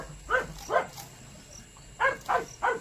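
A dog barks in two bursts, two quick yaps, a pause, then three more, fairly close outdoors at a home garden, with insects faintly in the background.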